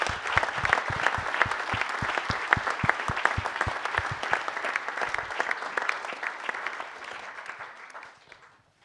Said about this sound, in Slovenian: Vsi si seveda zaslužijo velik aplavz.